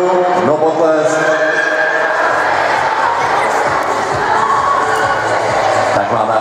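Crowd cheering and shouting at a junior fitness competition in Semily, with excited voices and whoops filling the whole stretch at a loud, steady level.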